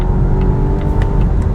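Volvo XC60 T8 AWD hybrid SUV accelerating hard, heard from inside the cabin as a steady, loud low engine drone with a rising tone, without talk.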